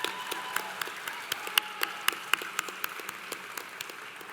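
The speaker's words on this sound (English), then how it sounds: "that's worthy of a round of applause" A fairly quiet, distant patter of audience applause at a virtual graduation ceremony, with scattered individual claps standing out in a loose rhythm over a soft wash of clapping.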